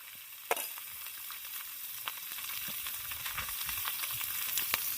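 Small amblya river fish fry in oil in a pan outdoors by a river, a steady close sizzle with faint crackles and occasional pops running throughout, no voices.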